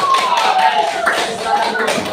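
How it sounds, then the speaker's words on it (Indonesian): Brief classroom applause from a group of students, a scattered patter of claps lasting about two seconds at moderate loudness. "Nah, kita kasih aplaus aja sekali."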